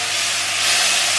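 Onions and spices sizzle in a pan for a vegan curry: a brief, steady, bright hiss, fairly loud and close, with no talking.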